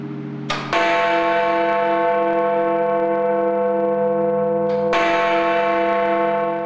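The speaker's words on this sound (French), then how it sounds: "Dans quelques secondes va résonner la cloche la plus célèbre du monde." Big Ben, the great bell in London's clock tower, struck loudly up close: two heavy strikes several seconds apart, each with a sharp onset and a long, rich ringing hum that sustains and overlaps.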